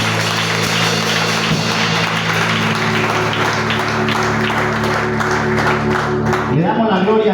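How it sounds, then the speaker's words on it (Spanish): Church congregation applauding after a preacher's prayer, dense clapping over sustained organ or keyboard chords, with a voice coming in near the end. "Denle un aplauso al Señor."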